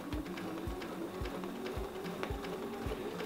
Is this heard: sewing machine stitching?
yes